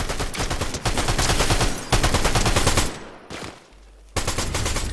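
SMG fire in Fortnite Chapter 5 comes as loud, rapid automatic bursts, several long strings separated by brief pauses and a short quiet gap before the shooting resumes.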